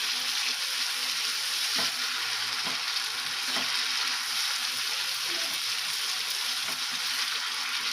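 Tomato puree frying in oil in a pan for a dhaba-style potato sukka, a continuous even sizzle with faint scraping taps of stirring, no voices.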